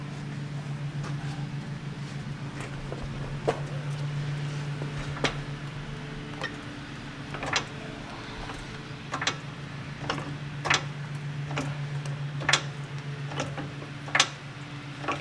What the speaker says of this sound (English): now I can start jacking it up